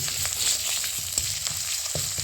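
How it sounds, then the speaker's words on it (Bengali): Ginger paste and garlic paste sizzle in hot oil in a pan, a steady close frying hiss with a few soft stirring knocks, no voices. "আদাগুলি ভাজা হয়ে গিয়েছে এবার দিয়েছি রসুন বাটা"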